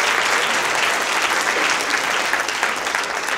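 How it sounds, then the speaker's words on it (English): Audience at a talk on music and racism breaking into steady, loud applause, a dense continuous patter of many hands with no speech over it. "you can applaud yourself for that"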